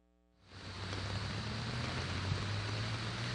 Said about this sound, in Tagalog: biglang bumuhos ang malakas na ulan dito nga sa UP Diliman